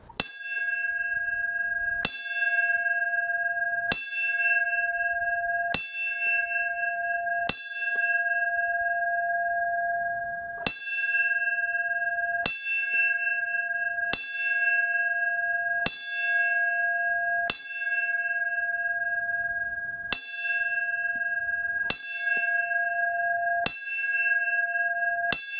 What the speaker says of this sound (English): The bell signal of 5555, meaning was flags to half staff,